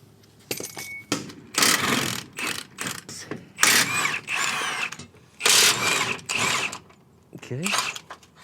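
A socket wrench ratchets in bursts on the steering gearbox bolts of a dually truck, several close, clicking runs of a second or so separated by brief pauses.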